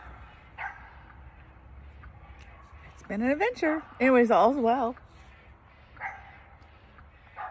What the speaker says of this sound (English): there are dogs in the woods around me in these campsites. The people have let them bark for hours.